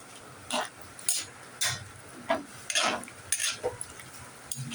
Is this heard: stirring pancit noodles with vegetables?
yes